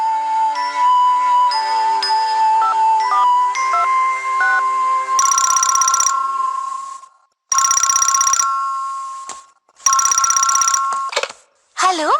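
A telephone rings in a family home in a dubbed Doraemon cartoon: loud, repeated electronic trilling bursts with short gaps between them, following a stretch of melodic music.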